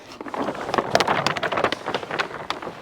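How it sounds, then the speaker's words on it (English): Gusty wind buffets a microphone outdoors while a large plastic pond liner is being unrolled, giving a continuous rough rumble with flapping, crackling bursts throughout. "Maybe not do this on a windy day."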